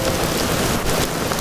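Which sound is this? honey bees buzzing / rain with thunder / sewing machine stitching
rain with thunder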